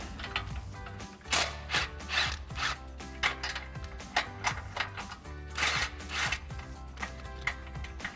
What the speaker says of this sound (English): we'll take that 16mm socket to remove our first bolt